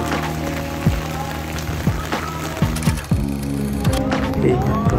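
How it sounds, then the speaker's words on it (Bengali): Heavy rain pours steadily near a station platform, a dense constant wash of falling water with a few sharp knocks and clatters, and a low rumble underneath. "দেখো চারিদিকে কেমন বৃষ্টি শুরু হয়ে গেছে, প্রচণ্ড পরিমাণে বৃষ্টি হচ্ছে।"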